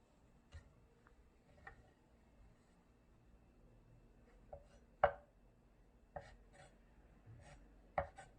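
A knife cuts a thin egg sheet into fine julienne strips on a board, giving sparse, faint taps at irregular intervals with a few sharper chops, close and quiet with no talk.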